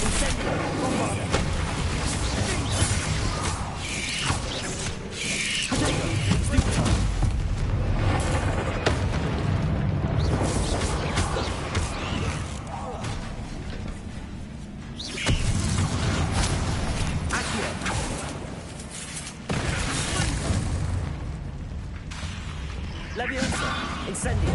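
Bombarda explosion spell blasts in Hogwarts Legacy, repeated heavy booms and crashes amid other spell effects and game sound, with a voice speaking at times.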